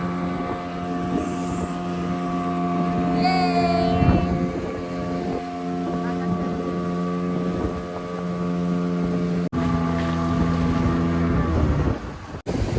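A boat's engine drones steadily and loudly throughout a sailing ride back from the jetties near Alibag beach on the Konkan coast, with wind buffeting the microphone and water rushing beneath; a brief high tone and dips occur near the end.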